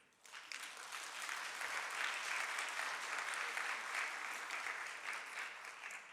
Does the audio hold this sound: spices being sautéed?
no